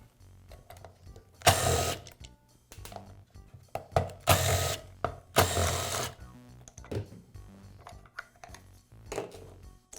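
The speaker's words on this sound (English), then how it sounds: "I'll begin by removing the pulley cap." Pulley cap being worked off a Milwaukee band saw during a pulley washer repair, heard as close metallic clicks, taps and a few louder scraping bursts, with no talking.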